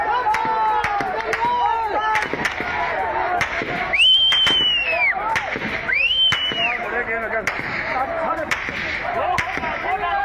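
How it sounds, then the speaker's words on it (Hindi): Gunfire by an army on protesters in Dadyal, Pakistan-administered Kashmir: sharp rapid cracks and bursts of shots over a noisy crowd, with whistling sounds and voices shouting throughout. "ददियाल में प्रदर्शनकारियों पर फायरिंग की है मुनीर की सेना ने"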